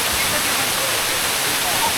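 Waterfall in the Canadian Rockies, heard as a steady, loud broadband roar of falling water that fills the whole clip without letup, cutting off abruptly at the end.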